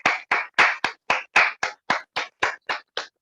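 Hands clap in a steady rhythm of about thirteen sharp, evenly spaced claps at a lecture event, loud and close with no other sound between them.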